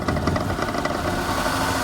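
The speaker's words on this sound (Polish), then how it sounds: "Ale wolne, bardzo nierówne i syczące." Rough, uneven idle of a Ford Taunus 2.0 OHC EFI engine with a vacuum leak, a steady close engine drone with a broad hiss running over it, no speech.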